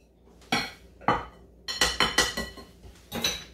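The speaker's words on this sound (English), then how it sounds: "I like to just take my fork and mix" Metal fork clanking against a bowl while mixing flour into a light pumpkin cake batter, irregular sharp clinks and scraping strokes close up with short pauses between them.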